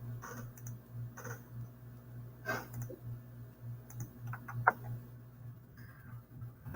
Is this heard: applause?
no